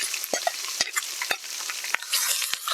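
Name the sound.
onions added and stirred in frying oil with spices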